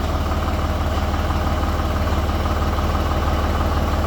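An ACE Veer mini tractor with a 27 HP Mitsubishi engine and side shift idles steadily close by, a continuous low, even throb with no change in pace.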